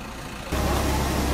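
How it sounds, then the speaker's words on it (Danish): A 20-ton mobile crane's diesel engine running while lifting boats out of the water, a low steady rumble that jumps suddenly louder midway and holds, close by with no talk. "Den mobilkran, vi har fået til denne gang, kan tage omkring 20 tons."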